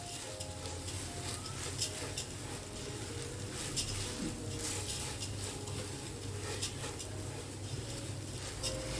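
Soaked, drained rice dry-roasts in a pan, giving a steady close sizzle and a continuous scraping, rattling stir of grains against the metal, with no talk.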